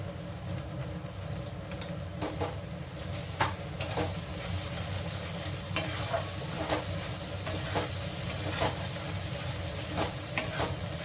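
Kashmiri chili powder and turmeric fry in a pan, giving a soft continuous sizzle with repeated light scrapes and stirring clicks scattered across the stretch.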